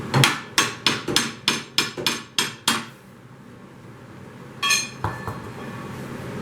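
Sharp metallic hammer blows strike a small engine's recoil starter, about nine evenly spaced hits in quick succession, then a pause and a couple more scattered knocks.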